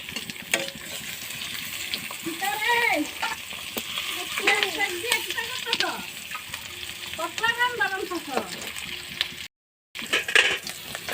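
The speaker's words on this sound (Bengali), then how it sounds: "কিছুক্ষণ সময় এভাবে রেখে দেব উপাসটা একটু ভাজার জন্য" Fish fries in a pan with a continuous close sizzle and crackle, while a voice briefly comes through in the middle over the frying.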